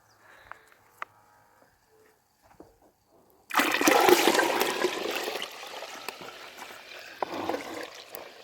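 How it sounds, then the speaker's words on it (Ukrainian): A bucket of starchy, glue-like garden pest remedy is poured out, starting as a sudden loud gush of liquid after quiet handling noises and tapering into a steady splashing trickle. "Так, тепер ще одне відро я вилю."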